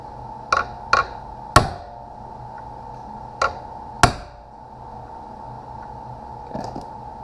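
Sharp metallic hammer strikes on a detent punch ring out, five distinct blows at uneven intervals over a low steady hum, each with a brief ringing tail.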